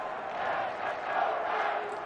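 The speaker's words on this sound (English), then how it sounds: "And here's some Met fans in the crowd at Coors Field." A baseball crowd at Coors Field during a Mets and Rockies game gives off a steady, dense murmur of chatter and cheering, heard from a distance with no single voice standing out.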